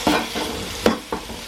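Chicken goes into a pan of frying ginger, garlic and green chillies, with a steady sizzle and a few quick stirring scrapes.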